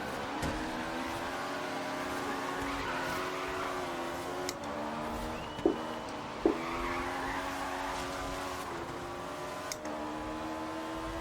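Ariel Atom 500 V8 in Forza Horizon 3 sliding through a drift, its engine a steady high droning whine with layered harmonics, a few brief sharp bumps and squeals breaking through near the middle.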